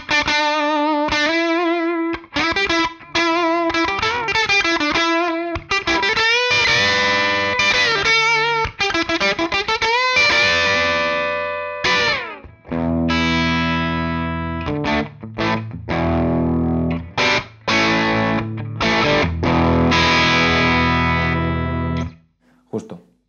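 Electric guitar played through a Thermion Engineering pedal set for an open, organic crunch, with plucked single-note lines then driven chords and riffs with short pauses, loud and close, with no talk.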